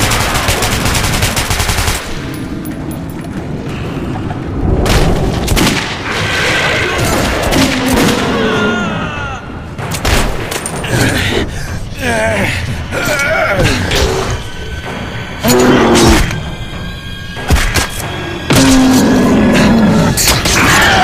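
Intense gunfire and explosions from a chase in Metro 2033 Redux: sustained machine-gun bursts, booming blasts and crashes, loud and near throughout, with frantic shouting mixed in.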